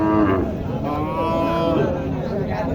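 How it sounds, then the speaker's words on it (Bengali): A Sahiwal cow moos loudly and close by in one long, drawn-out call, with faint crowd chatter in the background. "গাভীটা খুবই ভালো চমৎকার একটি গাভি"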